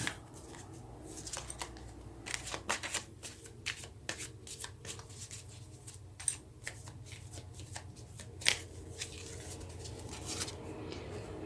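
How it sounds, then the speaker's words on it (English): Tarot cards shuffled and dealt out one by one for a Pisces weekly reading, with steady soft riffling and crisp slaps as cards are drawn and placed, close and fairly quiet, with no talking. "Let's go ahead and get a card for each week."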